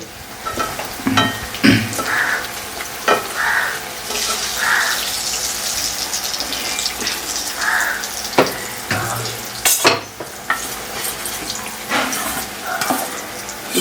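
Malpua made with rice flour batter fry in oil with a steady, bubbling sizzle, broken by repeated close scrapes and clinks of a spatula or ladle at irregular intervals.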